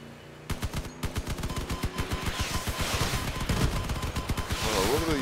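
Rapid bursts of automatic gunfire from a video game, dense repeated shots rattling through about five seconds alongside other game effects, with a faint voice mixed in.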